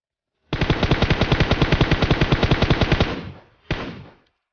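Rapid automatic gunfire from PUBG Mobile, a loud, evenly spaced burst of roughly two dozen shots lasting about two and a half seconds, trailing off into an echo, then a single shot with its own fading tail.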